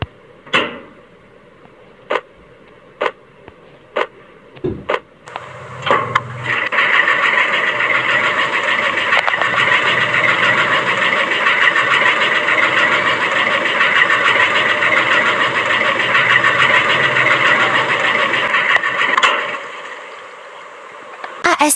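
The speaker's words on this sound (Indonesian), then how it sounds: "ASMR mesin cuci." Washing machine in the Avatar World video game: a few sharp taps and clicks, then a steady loud sloshing, rumbling hum that runs for about thirteen seconds before stopping, with no talk.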